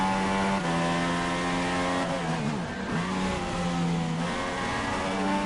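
A Renault GP2 race car in the F1 2016 video game, its engine a loud steady high-pitched whine that dips briefly and rises again as it revs through a corner, with no other sounds.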